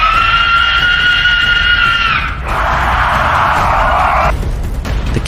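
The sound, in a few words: creature's ear-piercing scream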